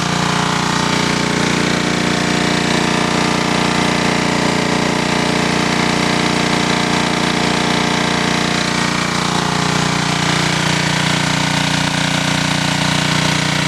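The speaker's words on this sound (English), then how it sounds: "you can hear the RPMs is much higher" Small portable generator engine, about 1,000 watts, running at high RPM with a loud, steady droning hum and mechanical buzz that holds constant throughout, no speech.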